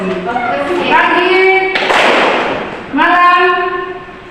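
A classroom of children claps hands in a short burst of sharp, overlapping claps between stretches of a teacher speaking and children's voices.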